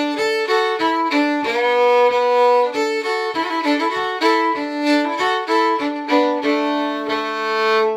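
Fiddle playing the B part of the old-time reel Angeline the Baker down an octave, bowed notes in a bouncy steady rhythm with occasional double stops, close and clear with no voices.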